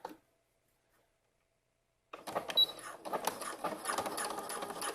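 A sewing machine stitching the side seam of a romper, starting after a near-silent pause and running in a fast, steady mechanical whir close by.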